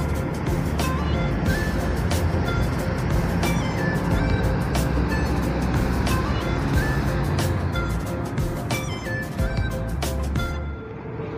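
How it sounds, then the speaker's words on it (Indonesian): A Bagong bus pulling out of Tamanan bus terminal in Kediri, bound for Tulungagung, with a loud, steady engine rumble, repeated sharp clanks and mechanical ticks, and other traffic around it. "Dan bus Bagong berangkat menuju ke arah Tulungagung."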